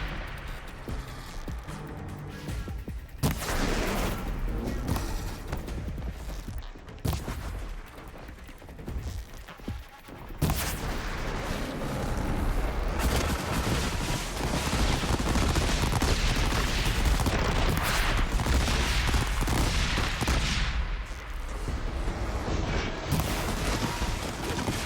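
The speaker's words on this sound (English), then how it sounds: "The way the explosions sound from these water shots sounds so weird." Explosions from water shots in Horizon Zero Dawn Remastered, a dense, loud barrage of booming blasts and crackling bursts that rolls on for most of the stretch with only brief lulls.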